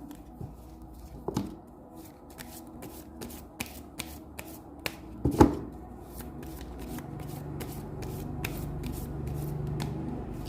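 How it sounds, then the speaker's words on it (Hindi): Tarot cards are shuffled by hand at close range, a run of quick riffling flutters and soft taps repeating in an uneven rhythm, with no voices. "मुझे थोड़ा सा शफल करना होगा।"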